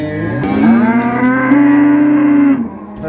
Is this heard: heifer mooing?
yes